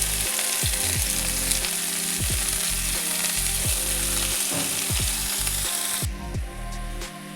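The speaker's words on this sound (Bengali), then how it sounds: "এখানে একটা ফ্রাই প্যান বসিয়ে দিয়েছি, আর এর মধ্যে খুব সামান্য একটু তেল ব্রাশ করে দিয়েছি। এবার এর উপর দিয়ে আমি এই পালং পাতাগুলো দিয়ে দিচ্ছি।" Spinach leaves sizzle in a frying pan lightly brushed with oil, a loud, steady close-up crackle broken by a few soft stirring knocks, easing off slightly near the end.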